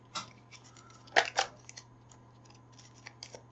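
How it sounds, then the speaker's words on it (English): Cards from a deck being shuffled during a solo game of Valley of the Kings: Afterlife, a few quick riffling bursts up close, the strongest pair in the middle, with faint tapping around them. "Shuffle, shuffle."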